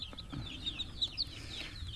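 Chickens cluck softly in short, scattered calls over a steady low rumble, with a few higher chirps mixed in.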